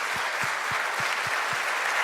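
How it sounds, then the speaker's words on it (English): Applause for volunteers at the NG-DE Berlin 2025 conference, a large audience clapping densely and steadily with a faint rhythmic low thump running beneath. "so really special round of applause for everybody"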